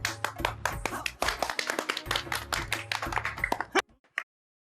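Children clap their hands in a dense, busy burst for a comedy TV serial game round, steady for nearly four seconds before tapering into a few last scattered claps, with a low musical or room hum beneath.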